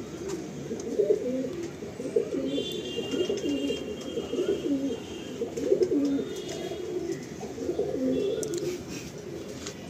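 Pigeons coo steadily in a pigeon loft, a dense, continuous murmur of overlapping low throaty calls from several birds nearby, with no talking.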